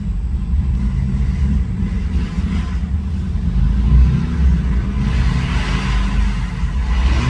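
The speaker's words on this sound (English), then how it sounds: "Motorcycles up on the highway." Motorcycles passing on a highway above Boone Lake in Johnson City, Tennessee, a distant low engine rumble that swells and fades as the bikes go by, steady and moderately loud.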